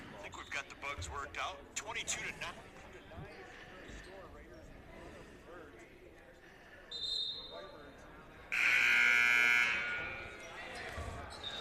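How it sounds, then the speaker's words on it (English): A loud electronic buzzer blares in a college women's basketball arena at the Gordon Hunsberger Arena, a sustained tone lasting a few seconds after a shorter blip, amid crowd noise, ball bounces and commentary. "Buzzer sounds."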